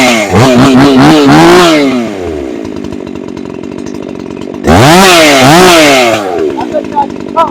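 A Farmertec G366 chainsaw, a Stihl MS361 clone, runs close and loud, revving hard twice with rising and falling engine pitch, settling into a rough, uneven idle between the bursts.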